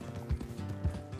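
Horse hooves in Red Dead Redemption 2 while riding along a road: two dull, evenly spaced hoof thuds over a low steady hum.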